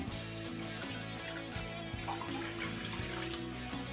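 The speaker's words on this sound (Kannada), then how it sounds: "ಅದೇ ತುಪ್ಪಕ್ಕೆ 2 ಕಪ್ ನೀರು ಹಾಕೊತಾ ಇದ್ದೀನಿ." Two cups of water pour into a pan holding half a cup of ghee, a faint, continuous trickling and splashing with a low steady hum beneath, close by and without talk.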